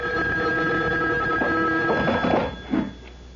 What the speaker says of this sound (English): A phone. At this hour?